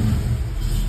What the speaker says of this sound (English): The cam just chugging along.